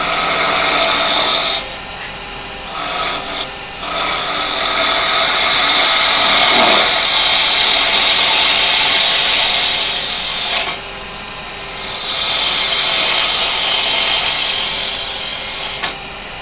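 Carbide tool cutting spinning yew on a wood lathe, a steady close rasping hiss that runs almost unbroken, with two short pauses early on and a third near the end.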